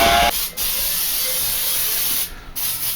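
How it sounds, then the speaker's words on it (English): Baking spray of oil and flour hisses from an aerosol can into a bundt pan in two long, loud, steady bursts separated by a brief pause, close and with no talking. "So Ralph, I'm just going to spray this bundt pan here with baking spray"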